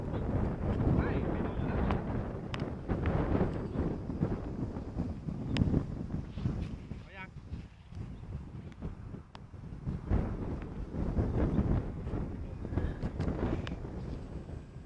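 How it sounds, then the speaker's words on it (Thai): Strong outdoor wind buffets the microphone in continuous rumbling gusts, loud and close throughout, while people talk now and then beneath the roar. "ลมมาแป๊บนึง"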